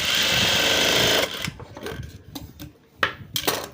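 A sewing machine runs fast and steadily while stitching a frilled hook strip, then stops. A few light clicks and handling noises follow at close range, with no talk.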